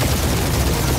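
Loud, dense gunfire fills a firefight in the Guardians of the Galaxy video game, a continuous rattling barrage with no pauses over its short span.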